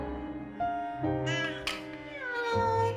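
A human voice imitates a cat meowing with drawn-out, wavering tonal cries that rise and fall across several seconds, close and fairly loud.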